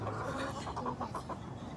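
A pet chicken gives a short run of soft, quick clucks nearby against a dull background hum, with no talking.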